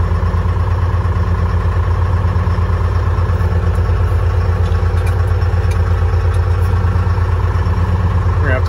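A 1976 fire truck's Detroit Diesel engine idles loud and close just after startup, a constant rough throbbing clatter that holds steady throughout.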